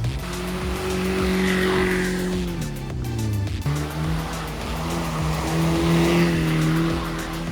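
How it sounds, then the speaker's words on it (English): A budget car drifts around a set of tires, the engine revving loudly while the tires squeal in long skids, the pitch dipping briefly mid-way before the engine rises again. "tried to drift around some tires, which is way more difficult than it looks"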